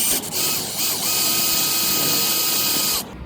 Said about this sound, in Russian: Сделать это можно с помощью сверла либо 3 мм,